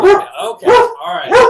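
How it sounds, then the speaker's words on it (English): A dog gives three loud, close barks at a steady pace, with a brief bit of speech between them. "Sorry for the barking"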